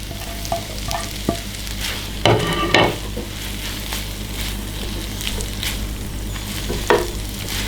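Kway teow noodles stir-fried with spring onion sizzle steadily in a hot pan, with a few louder scraping tosses of the spatula partway through, close and continuous, with no talking.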